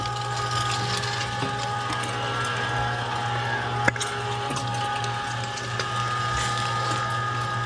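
A pork sausage-making machine cranks steadily, its ratcheting gears clicking and grinding in a continuous mechanical churn with a constant low hum underneath, close up with no talking.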